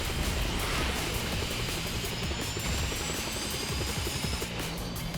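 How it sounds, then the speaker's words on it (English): Steady whirring rotor noise of a video game helicopter, constant and fairly loud throughout, with no speech. "Why can I not simply attack this helicopter?"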